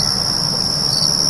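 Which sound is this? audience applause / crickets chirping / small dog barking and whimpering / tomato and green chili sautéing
crickets chirping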